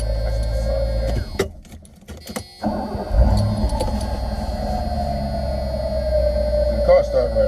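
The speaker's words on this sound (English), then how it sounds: "The car started right up." A Mercedes 500 SEC W126 coupe engine cranks, catches and settles into a steady low idle hum, heard close with a brief gap of clatter during the start.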